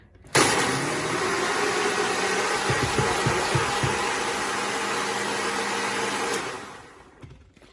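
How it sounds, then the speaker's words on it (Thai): Kitchen blender whirring up to full speed while blending a thick green smoothie of vegetables, a loud steady roar with brief knocking as contents shift, running several seconds before spinning down, no talking. "หมุนลงไปอย่างนี้ แล้วก็ปั่น เสียงดังหน่อยนะ ช่วงนี้เสียงดังหน่อยนะ"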